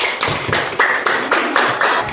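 A classroom of pupils claps for a classmate named Nova, producing a near, rhythmic burst of about eight evenly spaced group claps.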